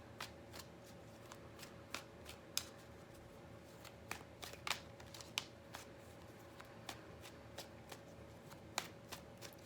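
Tarot cards shuffle in quiet, close riffles, with scattered crisp snaps and flicks at an uneven pace against near silence.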